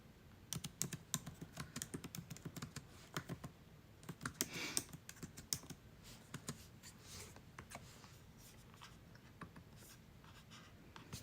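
Fingers type on a computer keyboard close by, quiet and fast irregular clicks that run in bursts with brief pauses, alone without speech.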